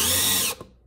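Impact driver on high-speed drill setting spinning a screw into a workpiece, a loud steady whine up close that cuts off abruptly, followed by a brief clunk as it stops.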